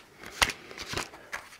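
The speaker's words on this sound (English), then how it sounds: "They've been shuffled, so I'll do them a little bit more." A pack of tarot cards is shuffled by hand in a few quick, soft riffling bursts with brief pauses between them, close and fairly quiet.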